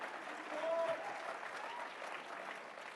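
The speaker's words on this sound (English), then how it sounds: "We should clap for Elon Musk." An audience at the CPAC conservative conference in Maryland applauds for Elon Musk, steady clapping that holds evenly through the whole stretch.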